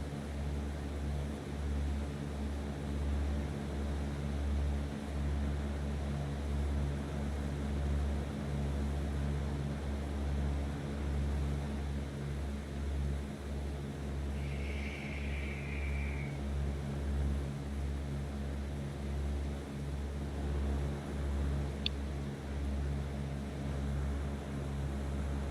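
Small propeller airplane engine droning at reduced throttle with the fuel mixture leaned, a steady low hum running evenly and fairly quietly throughout with a brief faint chirp midway, no talking.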